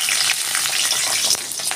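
Green and ripe chillies drop into hot oil in a wok, producing a loud, steady crackling sizzle close up with small pops throughout.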